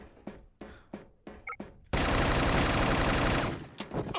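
A C95 rifle firing in a video game: a few separate single shots followed by a sustained loud automatic burst, close and dominant, with no talking.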